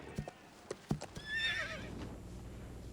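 A horse lets out one rising, whinnying neigh, with a few hoof clip-clops and knocks before it. The sound is fairly faint and distant over a quiet outdoor background.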